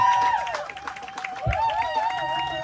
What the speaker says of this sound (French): On acclame le marié, on acclame Jésus.